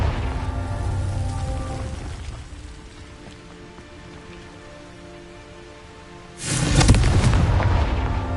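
A Confringo fire spell erupts in Hogwarts Legacy as a sudden loud explosive burst near the end, cutting through a steady rain-like ambient bed with low hum.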